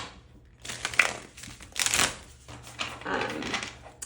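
Tarot cards being shuffled by hand, with bursts of riffling and papery flicking, close up, in several uneven waves with brief pauses.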